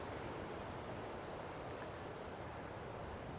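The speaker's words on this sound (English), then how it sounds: "The weather is getting very," Continuous rushing wind buffets the microphone at a campsite, a steady broad roar with no other sounds, fairly faint.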